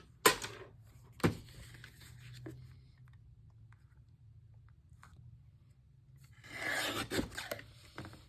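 Paper being trimmed for a scrapbook layout, with a couple of sharp swipes of the blade near the start, a quiet pause, then a longer raspy run of cutting close by.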